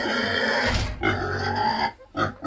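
Pigs on a family farm grunt up close in a few rough, uneven bursts, with short pauses between them and no speech.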